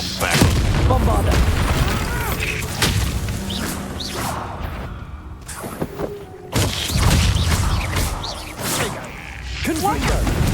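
Bombarda blasting spell in Hogwarts Legacy, loud booming impacts with whooshes and crashing debris, a short quieter gap midway before more blasts, with a voice speaking over the combat.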